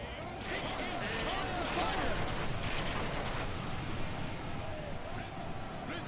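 Catapults and archers fire in a Lord of the Rings strategy game battle, a dense, continuous rumble of launches and impacts with scattered sharp bursts, loud and sustained, with talk over it.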